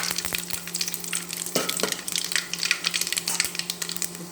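Dry spices crackle and sizzle in hot mustard oil for a cabbage labra, a close, steady frying hiss with sharp pops and a few scraping strokes of a spoon.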